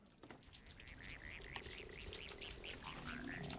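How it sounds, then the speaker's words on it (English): Repeated croaking calls from a frog in a cat video game, a steady series of rising chirpy notes over a continuous ambient bed, fairly quiet and with no talk. "Is there a frog somewhere?"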